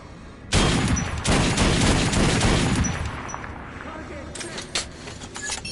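Gunfire at a shooting range in the video game Metro Redux: a dense burst of rapid shots for a few seconds that tapers off, followed by a few scattered shots, with game voices partly underneath.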